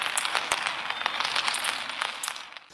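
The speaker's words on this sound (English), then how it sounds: "rain dripping on a roof," Dense patter of rain with sharp, irregular drips and ticks striking a roof, steady and close, with no talking.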